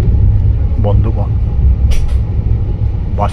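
From on board a moving train, a loud, steady low rumble of wheels and carriage fills the space, with brief clanks and a voice speaking faintly over it.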